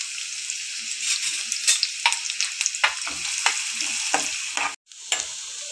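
Finely chopped onion sizzles in a hot pan while a spatula scrapes and stirs in quick, irregular strokes, the frying hiss continuous apart from one brief gap near the end.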